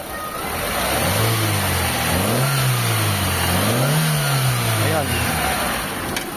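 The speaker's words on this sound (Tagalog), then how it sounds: "O, i-rev natin mga boss." A misfiring car engine with unstable RPM is revved several times, each blip rising and falling in a clear engine roar over an idle, with a voice speaking briefly at the start.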